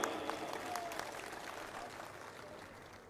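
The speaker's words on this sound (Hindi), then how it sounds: "यदि आपकी तरफ से जोरदार तालियां आएगी" Applause from an audience at a Congress party workers' rally, a steady wash of clapping at moderate distance that holds evenly throughout without voices rising above it.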